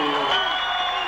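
A crowd at a super light heavyweight boxing bout cheers for fighter Pat "the Phantom" Christofi, a brief loud wash of cheering and applause with a voice speaking over it.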